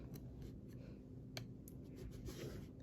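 A flying geese fabric quilt block is trimmed, with quiet, scattered cutting snips and soft clicks against a hushed background.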